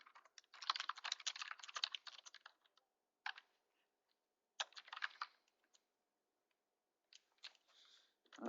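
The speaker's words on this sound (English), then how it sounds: "I'm just going to type a message here to you" Someone types a message on a computer keyboard in quiet bursts of rapid clicking keystrokes, separated by short pauses of near silence.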